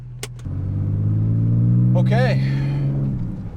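A Porsche 911 with a fully rebuilt engine pulls away, a loud, close low rumble that builds and holds for several seconds, heard from inside with a person talking over it.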